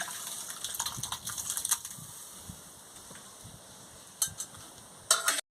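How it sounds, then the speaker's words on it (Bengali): Sago pearls simmering in water in a wok, giving a soft continuous bubbling and watery gurgle with a few louder splashy stirs near the end, close by and without speech. "এবার আমি সাবুগুলোকে সিদ্ধ করে নেব"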